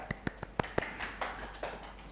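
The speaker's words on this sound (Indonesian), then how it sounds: "Tepuk tangan." A classroom of students claps for a presenting group, five or six sharp separate claps followed by a softer, looser patter, fairly faint and a little distant.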